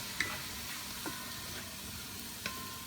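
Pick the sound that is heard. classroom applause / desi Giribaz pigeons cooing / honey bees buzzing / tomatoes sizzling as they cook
tomatoes sizzling as they cook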